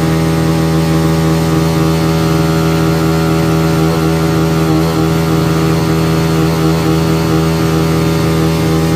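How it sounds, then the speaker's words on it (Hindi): TVS Raider motorcycle engine runs steadily with the throttle held open and heated up, a close, loud, even drone lasting throughout, no voices over it. "गाड़ी अभी स्टार्ट है, देखिए उसमें हम ना उसको थ्रोटल ले रहे हैं"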